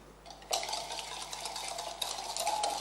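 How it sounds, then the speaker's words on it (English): Egg yolks being whisked with sugar in a bowl for vanilla ice cream, a quick, steady metallic scraping and clinking of the whisk heard close up and alone. "Keep on whisking and be very careful of this."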